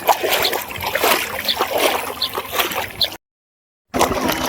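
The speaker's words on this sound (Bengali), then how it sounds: "পানি ভাঙে যাইতে আছি" Someone wading through shin-deep floodwater, with repeated close splashes and sloshes at a walking rhythm, then a brief silent gap before the splashing resumes.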